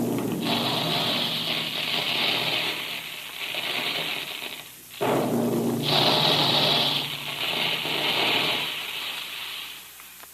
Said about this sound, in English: That's the sound you hear when puffed wheat and puffed rice are shot from special guns in the Quaker plant